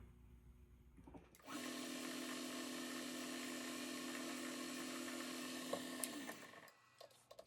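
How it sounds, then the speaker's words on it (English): A number 51 drill bores a hole through an ignition part for a hit-and-miss engine, a steady whirring motor that starts abruptly, runs evenly for several seconds, then winds down and stops. "So it's number 51 drill. And drill all the way through."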